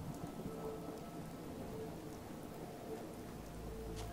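Steady rain pours in Fallout 4, a dense even wash of downpour with a low rumble of thunder beneath it, continuous throughout with no talk.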